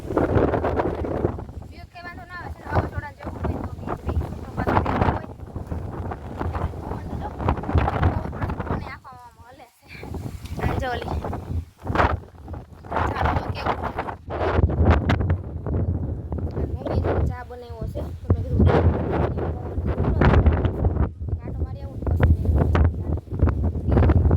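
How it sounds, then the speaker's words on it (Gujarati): A strong gusty wind blows near Girnar on a dark, rainy day, buffeting the microphone in rough, uneven bursts. Voices talk throughout, with a brief lull in the middle. "અટાણે તો પવન એટલે પવન બહુ ઉઠ્યો છે"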